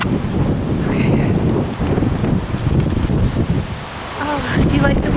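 Steady gusting wind on a blustery day in Los Angeles buffets the microphone with a continuous low roar, while someone speaks softly nearby in a few brief snatches.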